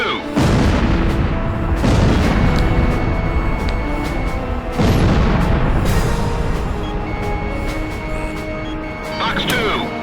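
Air-to-air missiles launched from a fighter jet in Ace Combat Zero: The Belkan War, several loud whooshing launch blasts over a constant engine roar, with a brief pause between each firing.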